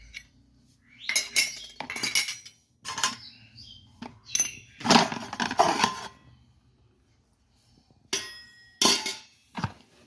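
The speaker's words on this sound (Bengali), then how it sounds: "ওপর করে রাখছি বাসনগুলো" Metal dishes and utensils, freshly scoured, clink and clatter as they are stacked one on another in a home, with several separate bursts of jangling metal and quiet gaps between, close by and without talking.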